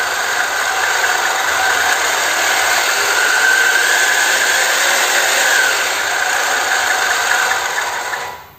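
The engine of a modified Kubota DC 93 combine harvester runs steadily and loudly at close range, a dense, even mechanical roar with a faint whine. It holds constant for several seconds, then fades out at the end.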